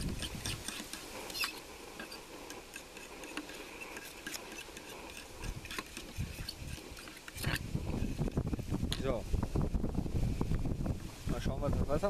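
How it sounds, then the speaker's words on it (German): Wind buffets an outdoor camp cooking spot where pasta is being made in a military mess kit, a steady rushing noise that grows louder and rougher in the second half. "Also bei Wind ist das hier alles nicht so pralle."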